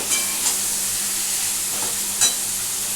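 Masala being stir-fried in a pan for a Bengali fish-roe curry, giving a loud, steady sizzle with soft scraping accents throughout.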